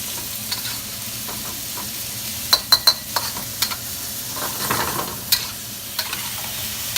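Mixed vegetables stir-fry in a hot pan for ham fried rice, giving a steady sizzle broken by several sharp clacks of a utensil scraping and tossing them, close and fairly loud, with no talking.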